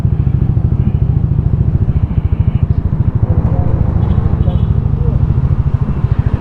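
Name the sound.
Yamaha Aerox motorcycle engine idling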